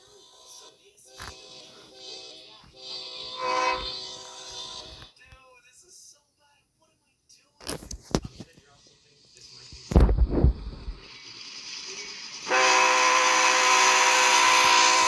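BNSF freight train led by a Dash 9 locomotive rolls past, with a loud rumbling burst midway and a sustained roar of passing cars at the end, preceded by quieter talk and ambient noise.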